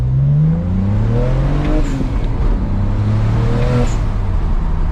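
A BMW 335i accelerates while driving, its engine droning loud and close with a rising pitch that swells, eases briefly, then climbs again over constant road noise.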